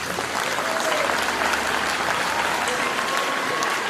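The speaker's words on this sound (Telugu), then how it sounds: "very good give clap for Meena Kumari teacher" A room of people, likely students, claps for a teacher, a dense, even burst of applause that starts abruptly and holds steady for several seconds.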